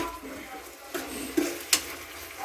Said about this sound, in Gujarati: ટમેટું નાખી અને થોડી વાર માટે હલાવશું આપણે આને.